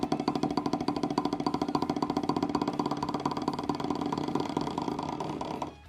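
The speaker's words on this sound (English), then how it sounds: "Buzz roll on a drum pad." A fast, even buzz roll played on a drum pad: a dense, sustained pulsing of pressed strokes that holds steady for several seconds and then stops abruptly.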